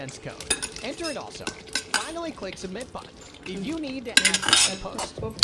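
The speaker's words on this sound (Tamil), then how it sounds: "இந்த டைம்ல நாம வறுத்து வச்ச பன்னீரை இதுல போட்டுக்கலாம்." Spoon scraping and clinking in a pan as fried paneer goes into palak gravy and gets stirred, a busy run of metallic scrapes and knocks, with faint talk and a soft sizzle beneath.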